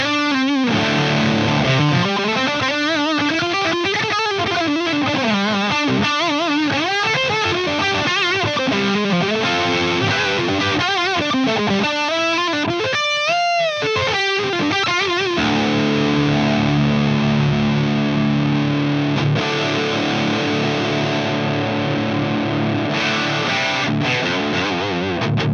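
A Mesa Stiletto Deuce amp in fluid drive mode pushes a heavily saturated electric guitar, playing a continuous stretch of chords and lead lines, loud and close with no talking.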